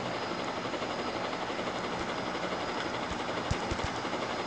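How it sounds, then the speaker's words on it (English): Helicopter in the Roblox video game, a steady droning whir under a few sharp low thumps, fairly loud and continuous with no talking. "Guys, helicopter."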